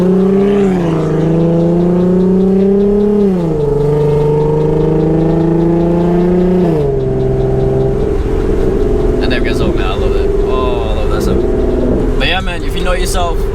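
A car with a Nissan VQ engine revs loudly through test pipes and exhaust, its tone rising and falling in long sweeps, close and dominant, ending in rougher, choppier bursts.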